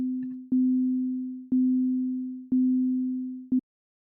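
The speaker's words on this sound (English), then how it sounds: "We have our sine tone generated that's changed with a trigger, and we've got our envelope as well." A pure, steady generated sine tone from an accessibility beacon repeats four times at one-second intervals, each beep starting with a soft click and slowly fading, with nothing else around it.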